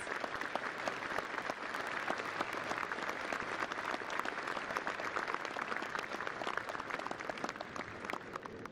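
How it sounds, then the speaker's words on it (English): Attendees at a National Veterans Day ceremony at Arlington National Cemetery applaud the veterans' national leadership, a continuous, dense clapping heard from some distance outdoors, sustained at an even level throughout. "Ladies and gentlemen, please join me in recognizing our veterans' national leadership with your applause."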